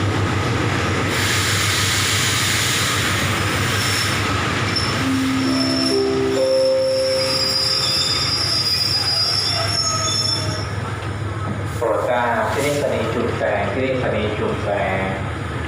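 Ordinary passenger train 211 arriving at a Thai railway station, steel wheels squealing in long high tones over rumbling wagons and clanking, loud and close, with someone talking over it.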